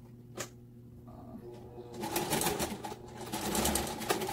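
A sewing machine back stitches a small leather wristlet bag in short bursts of rapid mechanical clatter, close up and fairly quiet, with pauses between runs.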